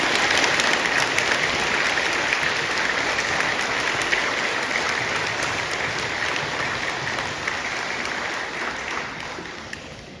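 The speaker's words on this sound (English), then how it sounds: "a round of applause for our distinguished veterans" A crowd at a Veterans Day program applauds its distinguished veterans, a sustained, even roar of many hands clapping that slowly fades toward the end.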